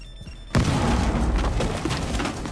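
A flashbang grenade detonates in Rainbow Six Siege with a sudden loud boom after a quiet half second, followed by a sustained crackling, ringing wash that stays loud to the end.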